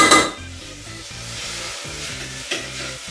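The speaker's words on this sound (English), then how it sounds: "We melt the butter." Butter melting in a hot pot on the stove for béchamel potatoes gives a steady, close frying sizzle with soft stirring scrapes, starting with a brief louder burst and then settling into an even hiss.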